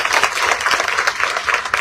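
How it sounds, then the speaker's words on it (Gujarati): An audience at a political rally in Surat applauds, producing dense, continuous clapping from many hands that stays loud and even through the whole stretch. "આ ટીમને એકવાર જોરદાર તાળી આપી."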